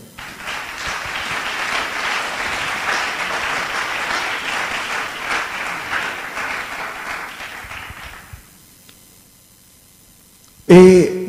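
A church congregation bursts into sustained applause and cheering for about eight seconds, dense and loud, then fades to near silence before a sharp sound at the end.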